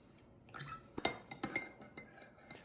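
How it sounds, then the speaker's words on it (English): A spoon stirs a tablespoon of limoncello into sugar syrup, giving a few soft, close clinks and scrapes against the bowl alongside light liquid sounds, brief and fairly quiet. "So now we can stir in a tablespoon of limoncello"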